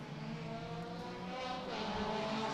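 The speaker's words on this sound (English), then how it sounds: "2 white Integras, you can hear them distinctive sound from those cars screaming their heads off through the S's, through Bridgestone" Honda Integra race cars at a circuit racing through a series of bends: a sustained, high-pitched engine wail, moderately distant and steady, with the tone rising slightly as the cars push on.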